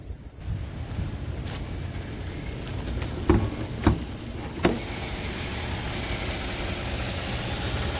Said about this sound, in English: You could see the engine is very quiet.